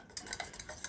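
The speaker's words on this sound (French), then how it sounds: "Mélange." A short burst of quick clinking strokes as a utensil stirs homemade anti-aging cream against a bowl, close and fairly quiet.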